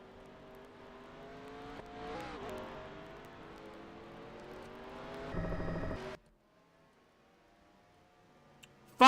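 Simulated race car engine from NASCAR Racing 2003 running a NAPA Cup Series race, holding a steady engine drone in third gear with shifting pitch, a brief louder surge near the end, then cutting to near silence.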